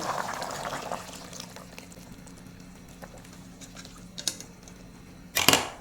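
Dissolved curry roux is poured into a simmering pot of home-style Korean curry with chunky potatoes, carrots and meat, a soft liquid pour followed by faint clinks and a sharper scraping clatter at the end.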